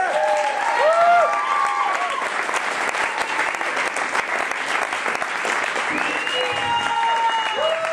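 Comedy club audience in Boulder, Colorado applauding at the end of a show, loud sustained clapping and some cheering throughout, with a host's voice heard over the start and the end.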